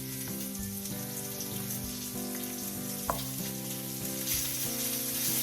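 Spice-seared halibut fillets sizzle steadily in a hot pan, a continuous dense crackle heard close up with occasional small pops and scraping, no voices over it.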